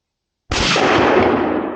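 A single rifle shot fired on an opening-day deer hunt during Missouri rifle season, on a frosty morning around 28 degrees, bursting in loudly and abruptly after silence and rolling on as a sustained, slowly fading echo.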